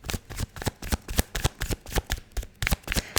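Tarot cards are shuffled in a rapid, steady run of crisp riffling slaps, close and clear with no talking over them.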